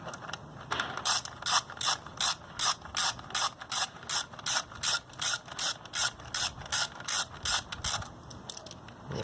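Socket ratchet wrench loosening airbox bolts on a Honda Ruckus scooter, a rapid run of close, crisp clicking bursts in a steady back-and-forth rhythm, about twenty strokes with brief pauses between them.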